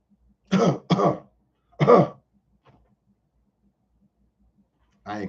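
A man gives several forced, deliberate coughs and throat clears: two quick harsh bursts, another a second later, then one more after a silence, close and dry.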